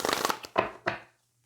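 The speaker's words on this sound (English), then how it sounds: "I'll do several shuffles on camera" Tarot cards shuffled by hand close to the microphone: a quick flurry of crisp riffles followed by two separate slaps of the deck, then quiet.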